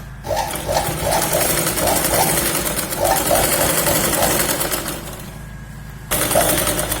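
A sewing machine runs steadily, stitching a seam along the edge of fabric for a Punjabi top and salwar. The needle keeps a fast, even rhythm close by, then stops briefly before starting again.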